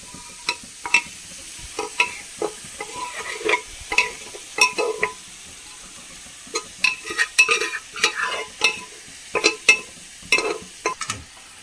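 Banana flower and cooked green gram stirred in a pan, a spoon scraping and clacking in irregular bursts with a soft sizzle underneath, close and fairly loud, no voices.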